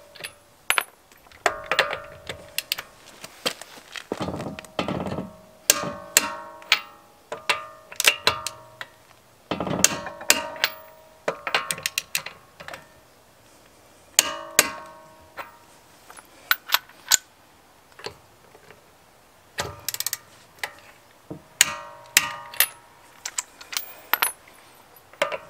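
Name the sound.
torque wrench tightening car wheel lug nuts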